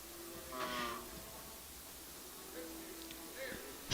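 Cattle low with brief moos at a calf and stocker livestock auction in Oklahoma City, a couple of short calls rising above steady sale-barn background noise.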